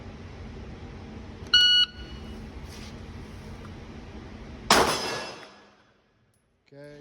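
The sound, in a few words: shot timer beep at shooting range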